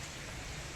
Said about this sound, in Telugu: పలు చోట్ల తేలికపాటి జల్లులు కురుస్తున్నాయి.